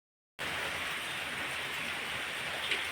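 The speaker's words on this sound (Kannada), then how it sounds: "ಸುಮಾರು ಹೊತ್ತಾಯಿತು ಕಂಟಿನ್ಯೂಸ್ ಮಳೆ ನಮಗೆ" Continuous monsoon rain falls steadily as a dense, even hiss after a silent start, holding at a constant level throughout without voices.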